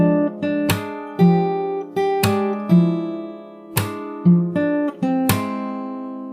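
A plucked acoustic guitar plays a rhythmic riff of ringing notes and chords, punctuated by sharp percussive slaps, close and clear with no voices.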